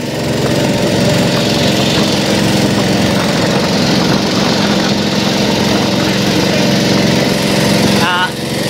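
A fishing trawler's engine runs at sea off Bangladesh while following a cargo ship bound for Chittagong. It makes a loud, steady, close droning rumble throughout, with a brief dip near the end.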